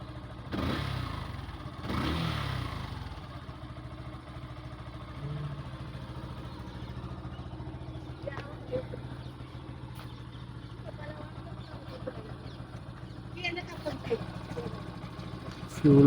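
A motorcycle engine running shortly after a cold start, idling steadily with a low throbbing clatter and a couple of early rev bursts, close by, with a voice talking over it at times.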